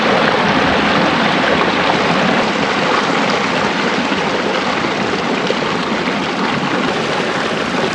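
A mountain creek rushes steadily and loudly close by beside a hiking trail in the Twenty Lakes Basin, Inyo National Forest, California, a constant broadband wash of water with no voices.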